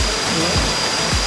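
Steady broadband rush of Lone Creek Waterfall near Sabie, Mpumalanga, a continuous close roar of falling water with no pauses across the short stretch.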